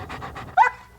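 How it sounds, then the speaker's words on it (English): A happy dog pants close by in a few quick, breathy puffs, then lets out a short, higher yip or whine before trailing off. "For example, that's a happy dog."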